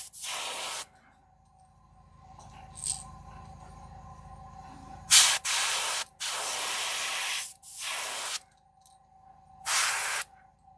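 An aerosol can sprays paint onto a jerkbait fishing lure in short hissing bursts, several separate sprays with pauses between, close and fairly loud.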